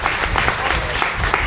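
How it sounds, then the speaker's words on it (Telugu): Church congregation clapping at the consecration of the new St. Anthony church in Lingarajupalem, a steady dense patter of many hands that is loud and continuous throughout. "చప్పట్లు కొడుతూ."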